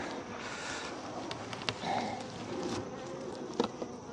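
Honeybees buzz around a hive in a dense, steady drone, close to the microphone, with a few brief knocks and bumps rising over the swarm.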